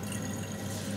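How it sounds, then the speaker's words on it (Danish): Methanol is poured into a conical flask with a ground-glass joint in a lab setting, making a faint, steady trickling liquid sound with soft dripping, and no talk. "hælder vi op i en konisk kolbe"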